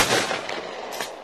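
A Remington 870 Express 12-gauge pump shotgun fires at clay targets on an outdoor range in Ocala, a sharp blast with a second crack about a second later, close and loud.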